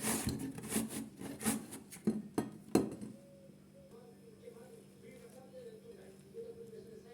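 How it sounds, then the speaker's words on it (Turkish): Unpeeled zucchini rubbed on the coarse side of a grater, a quick series of close rasping strokes for about three seconds, then quiet with only faint background sounds. "Kabuklarını soymadan rendemin e, kalın kısmıyla kabağı güzelce rendeliyorum."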